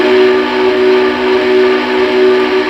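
A single model steam locomotive whistle from a Lionel Vision Line Big Boy (Union Pacific 4014) sounds loud and unbroken, a rich steady tone that holds throughout without pause.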